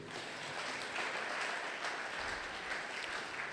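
A church congregation at a Sunday thanksgiving worship service applauds and cheers for the Lord, with steady, dense clapping from a crowd that fills the whole moment at moderate distance.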